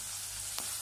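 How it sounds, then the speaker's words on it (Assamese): Onion, garlic and green chilli fry in a pan. A brief, steady sizzle comes from close by, with one small stir in the middle. "এতিয়া পিঁয়াজ নহৰু কেঁচা গোন্ধ যোৱালৈকে অলপ সময় ভাজিম।"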